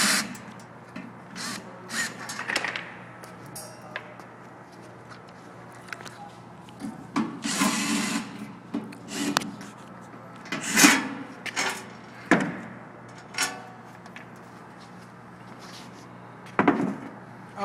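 Bolted lids being removed with a wrench from a DI-9200 BioWave unit: scattered metallic clicks, taps and scraping knocks at irregular intervals, close and moderately loud, with no talk.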